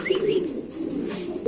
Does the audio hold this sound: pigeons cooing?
yes